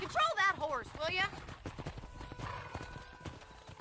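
Video game horse hooves in Red Dead Redemption clip-clop along at a steady walking pace, with a horse's whinny up front and a voice talking over the start.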